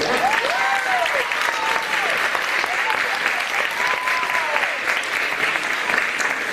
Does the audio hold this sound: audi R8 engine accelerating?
no